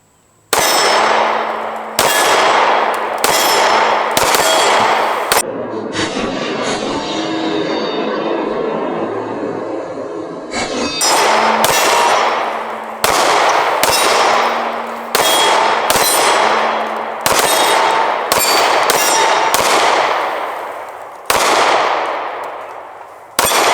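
SCCY pistol shots ring steel targets at a range, a series of sharp, loud reports each followed by a bright metallic clang that decays slowly, fired in quick bursts with a steadier ringing stretch in between.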